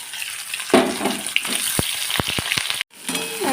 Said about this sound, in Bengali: প্রথমে এই যে পনিরটা একটু ভেজে নেব